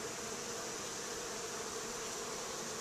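Honey bees at a hive produce a dense, continuous buzzing drone. It is close and steady, with no talking.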